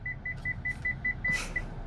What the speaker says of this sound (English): Please ignore all the beeping of the car.